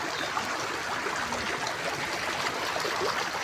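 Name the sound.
heavy rain water flowing strongly along village road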